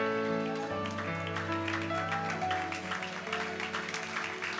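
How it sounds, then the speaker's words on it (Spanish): A church congregation claps during a revival service, the steady clapping running under loud sustained organ or keyboard chords and singing voices, growing denser and more rhythmic toward the end. "Fuerte el aplauso al Rey."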